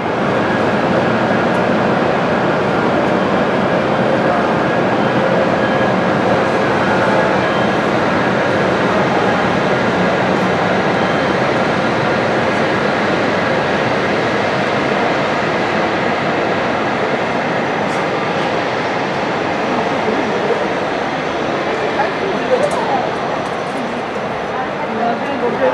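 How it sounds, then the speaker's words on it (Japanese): A Hokuriku Shinkansen train rushing through Kurobe-Unazuki Onsen station: a loud, sustained roar and rush of wind lasting the whole passage, steady and close, with a platform announcement voice mixed in. "列車が通過いたします。"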